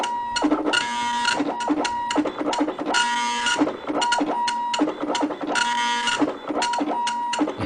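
A printer runs in best print quality mode, with a loud rhythmic mechanical whir and buzz as the print head makes repeated passes in three cycles, alone.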